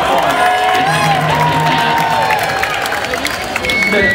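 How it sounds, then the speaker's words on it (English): An audience at a stand-up comedy show breaks into loud, sustained applause mixed with cheers and whoops, a dense crowd roar filling the room throughout, with some shouting voices rising within it. "Everybody give Tony a big round"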